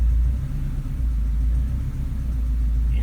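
A Subaru EA82T turbo engine idles steadily, its low rumble rising slightly and then settling back, recorded close with no talking.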